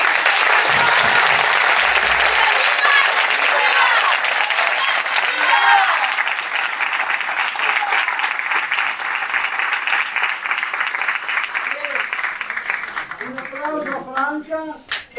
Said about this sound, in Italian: Io farei veramente un applauso a